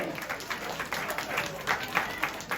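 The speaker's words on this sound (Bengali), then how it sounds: "জোরে একটা হাততালি হওয়ার জন্য" Audience at a school prize giving for Mother Language Day claps in a fluttering, sustained burst of applause, moderately distant, with a room murmur underneath.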